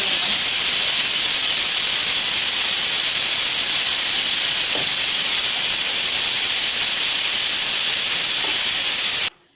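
A pressure cooker making pulao with hot water releases steam in a loud, steady, continuous hiss that cuts off abruptly at the end.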